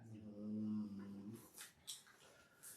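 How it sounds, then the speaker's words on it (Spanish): A sleeping pet dog snores during an indoor class, one drawn-out low rumbling snore followed by a few faint snuffling breaths, quiet and close. "I don't know if you can hear him snoring."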